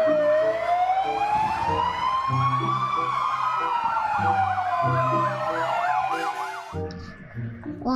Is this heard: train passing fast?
no